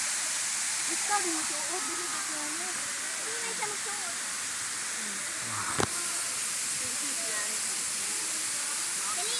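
Kawasan Falls in Bohol roars as a broad, steady hiss of falling water, loud and constant, while people talk and exclaim over it.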